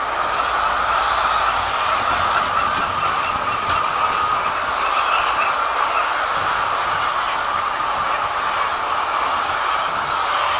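Hens packed into a large Tamil Nadu poultry farm that turns out 12,000 eggs a day raise a loud, dense, unbroken clamour, steady from start to finish with no voices.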